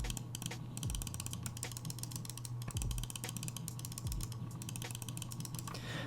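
Razer Viper and Viper Mini gaming mice with optomechanical switches, their buttons clicked in a quiet room, giving sharp, light, irregular clicks close to the mic over a faint steady hum.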